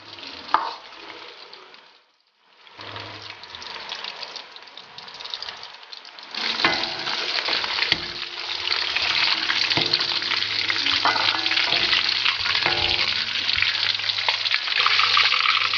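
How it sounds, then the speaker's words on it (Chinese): Pork slices deep-frying in oil over medium-low heat bubble and crackle continuously up close, quieter at first with a brief lull, then swelling into a denser, louder sizzle that holds steady. "我们首先把它炸定型，把它里面的肉给炸熟啊。"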